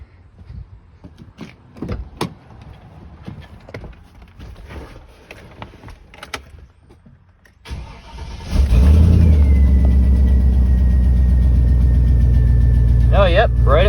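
A 2005 Chevy 2500 truck engine cranks and fires, then settles into a loud, steady idle close by, following a stretch of quieter shop noise and clatter with a person talking.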